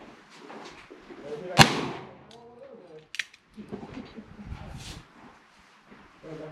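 A single sharp 9mm pistol shot firing a Lyman 35887 wadcutter load cracks out loud and close, followed by a smaller second report, with people talking around it.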